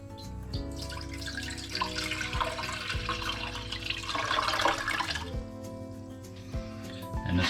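Apple juice pours into a cooking pot with a steady liquid trickle and splashing, close by in a kitchen with faint background clatter and no speech.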